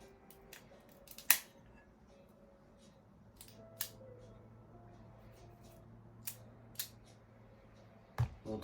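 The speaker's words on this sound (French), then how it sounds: "C'est parti pour découper le cigare." A Quai d'Orsay 52 cigar being cut with a cutter: a sharp snip near the start, then a few quieter clicks and handling sounds in a quiet room, with faint speech.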